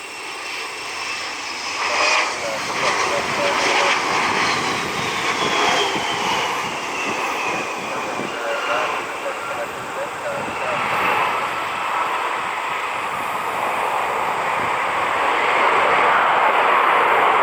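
An EgyptAir Airbus A220 jet airliner roars by at a distance at Cleveland, its engine whine rising and fading over a broad rushing noise, with faint voices beneath.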